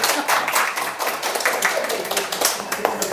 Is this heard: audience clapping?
yes